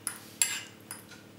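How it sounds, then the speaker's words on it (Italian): Cooked pumpkin is mashed with a fork, heard as three or four light metallic taps and scrapes against a dish, fairly close and quiet, with no talking. "Trascorsi 10 minuti la nostra zucca è cotta e la schiacciamo con una forchetta."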